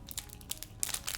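The plastic wrapper of a Pokemon card pack crinkles and crackles in short, uneven bursts as it is handled and opened, quiet and close to the microphone.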